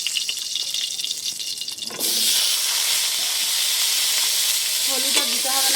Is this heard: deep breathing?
no